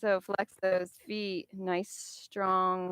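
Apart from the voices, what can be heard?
No everyday noise stands out behind the speech.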